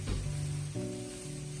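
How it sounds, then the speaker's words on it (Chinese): Water spinach stems stir-fried in a hot wok give a steady, close sizzling hiss that runs the whole time, with a sustained musical tone sounding over it. "大约翻炒2分钟左右，充分的把空心菜梗炒熟"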